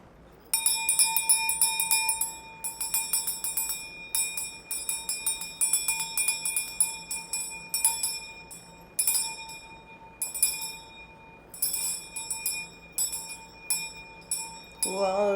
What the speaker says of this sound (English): Let's do a cleansing with my Mother Ocean's bell